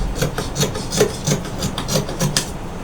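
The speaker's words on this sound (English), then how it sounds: "So from here now I can just trim off the excess." Scissors trimming excess fabric while cutting out a bubu kaftan, giving a steady run of about eight rhythmic crisp snipping and rasping cuts, close and fairly loud with no talking.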